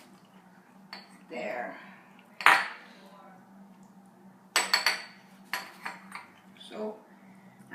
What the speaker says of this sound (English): get another bowl and peel it, like scrape it into